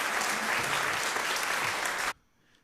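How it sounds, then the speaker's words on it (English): A burst of applause from a sound effect on a Zoom comedy show, dense steady clapping that cuts off abruptly into near silence. "I'm used to having to wait a couple seconds for the applause now that I'm online"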